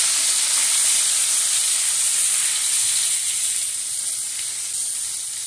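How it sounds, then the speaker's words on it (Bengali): Dried shrimp fry with turmeric and salt in a pan, giving a loud, continuous, close-up sizzle and hiss that holds steady and fades slightly toward the end, with no talking. "এবার আমি মাছগুলো ভালো করে নেড়ে চেড়ে ভেজে নেব"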